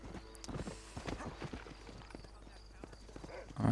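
Horse hooves clip-clop steadily in Red Dead Redemption, a rhythmic run of hoofbeats at moderate volume with voices and game sounds layered over them and a louder burst at the end.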